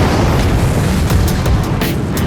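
An on-set explosion effect for the blowing up of the Great Sept, filmed at the Paint Hall in Belfast with tons of wildfire: a loud, dense booming roar that fills the whole clip with crackling bursts.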